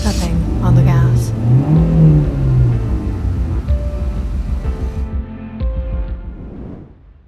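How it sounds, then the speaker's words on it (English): An engine revs hard as a car drives off and accelerates, rising and falling in pitch over a deep rumble before dropping away, with speech mixed in. "where Amanda and Ivan got in, pushing Victor away and stepping on the gas"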